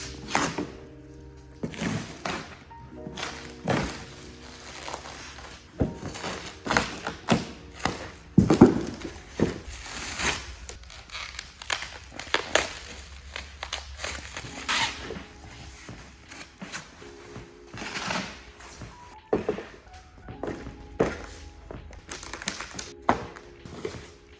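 Cardboard box and wrapped GFC chase frame parts being unpacked, with repeated close taps, rustles and clunks in an irregular rhythm.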